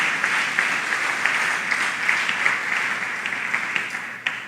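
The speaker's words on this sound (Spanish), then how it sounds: "Ese aplauso es para Jesús, se lo va a dar como Él se lo merece." A church congregation applauds in praise of Jesus, a dense, steady wash of clapping from many hands filling the room at moderate volume, with no voices rising above it.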